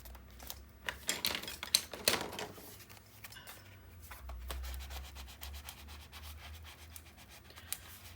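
Paper tape is burnished down onto a scrapbook page with quick, faint rubbing and scratching strokes, busier at first and then lighter and more scattered, heard close in a quiet room.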